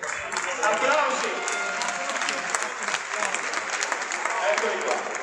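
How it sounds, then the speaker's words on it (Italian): Sustained applause from an audience at a football club award ceremony, a dense steady patter of clapping that holds across the whole stretch with faint voices mixed underneath. "Applausi."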